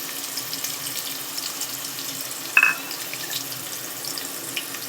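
Chopped onion frying in hot oil for a monsoon bharanga vegetable dish, a soft, steady sizzling hiss throughout with one brief clink near the middle and no talking.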